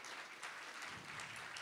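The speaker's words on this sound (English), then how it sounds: "Clap your hands and welcome Reverend Rory." A church congregation at an Apostolic revival service claps hands in welcome, steady dense applause filling the hall, faint and distant-sounding, with no voices over it.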